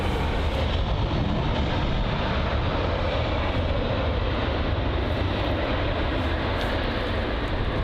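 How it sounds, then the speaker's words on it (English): A Virgin Atlantic Boeing 787-9 Dreamliner touches down smoothly at London Heathrow, a steady, loud broadband jet roar that holds constant throughout without pause. "So it's the Virgin Atlantic 787-9 Dreamliner with a nice and smooth touchdown."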